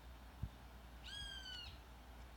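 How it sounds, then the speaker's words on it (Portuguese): A single bird in the game Knives Out gives a clear, thin, harmonic call of about half a second, faint against a low background, with a couple of soft knocks around it. "Ô, passarinho."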